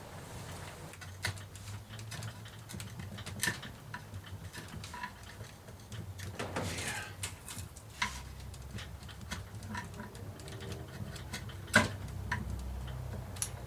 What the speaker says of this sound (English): I have one hand on top of the chisel just to stop the chisel going wild